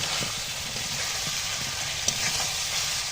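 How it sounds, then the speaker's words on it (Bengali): Fried chicken pieces going into a pan of spiced potatoes, giving a steady, close sizzling hiss with light clinks and stirring scrapes throughout. "এখন এই ভেজে রাখা মাংসগুলো দিয়ে দিচ্ছি।"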